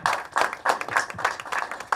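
An audience at a movie teaser launch event claps in steady, rhythmic bursts, about seven even beats in two seconds, close and moderately loud with no talking over it.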